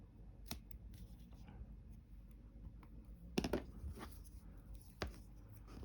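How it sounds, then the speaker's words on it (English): Scissors snip through tape to cut a piece to size during assembly of a DeAgostini Moomin House model, with a few sharp close cuts around the middle and a final snip near the end over quiet room noise. "So I want a piece there, and then I need to cut it to size."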